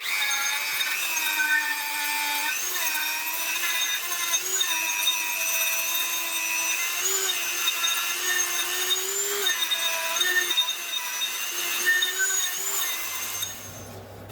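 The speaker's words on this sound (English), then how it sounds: "I'm just using a really soft wire brush." A soft wire brush cleans the underside of a pallet wood table with a steady whirring, motor-like whine that holds for over ten seconds before cutting off near the end.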